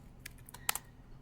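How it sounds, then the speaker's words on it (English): Someone types on a computer keyboard in a lecture setting, a few sparse, faint key clicks with one sharper double tap near the middle, over a quiet room hum. "I hear the typing."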